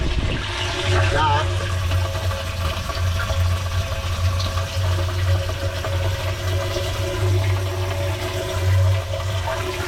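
Water running steadily into a homemade live bait tank, a continuous rushing, gurgling flow with a low hum underneath, loud and close throughout.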